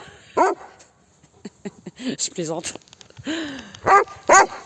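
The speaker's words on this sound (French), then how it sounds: "Vas-y, aboie" A pet dog gives a few short barks and yips in an open pasture, close and scattered among quieter whimpering sounds, while someone speaks briefly in between.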